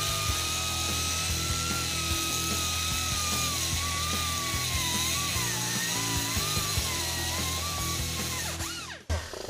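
A metal bracket clamped in a vise is cut down with a power tool: one continuous loud whining grind with a wavering high pitch that holds for almost the whole stretch, then cuts off near the end.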